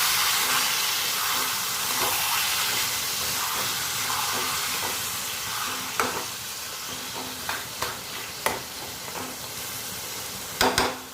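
A hilsa fish head is stirred with taro leaves, sugar and turmeric in a hot pan, with a continuous close sizzle and hiss broken by several sharp scrapes of the spoon toward the end.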